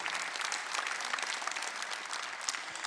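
A church congregation applauds during a Sunday worship service, steady dense clapping from many hands filling the room throughout, fairly loud and continuous with no talk over it.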